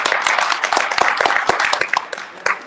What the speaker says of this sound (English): Let's give a round of applause for these people.